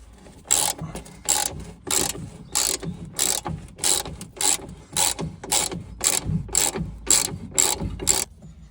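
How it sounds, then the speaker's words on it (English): Socket set ratchet clicking in about a dozen short bursts of rapid pawl clicks, steady and fairly close, while taking off a vehicle body plate; no talking. "So I need to get socket set out and do that."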